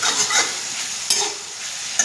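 Fish frying in a pan for a sour fish curry, a continuous bright sizzle with a few sharp spatters and a brief clatter near the end, close and clear.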